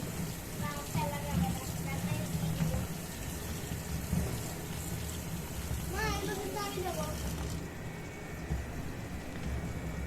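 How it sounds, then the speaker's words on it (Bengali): Ridge gourds rinsed in a kitchen under steady running water, a continuous close splashing and trickling with a voice briefly audible over it. "এটাকে এবারে ঝিঙেগুলোকে ধুয়ে নিচ্ছি"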